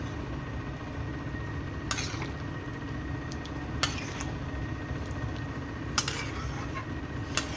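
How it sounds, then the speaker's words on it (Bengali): A spice tempering has just gone into lentil dal cooked with vegetables, and a steady hissing sizzle runs throughout, punctuated by three sharp metallic clinks of a spoon against the pot. "হয়ে গেছে ডাল সম্বার দেওয়া, একটু ফুটলেই নামিয়ে দেবো"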